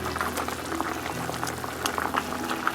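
Chicken stew with vegetables boiling in a pot, a steady close bubbling and gurgling that runs throughout at low volume.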